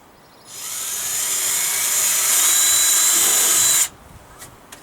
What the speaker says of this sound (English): I think I'll just drill another one for the other one to go through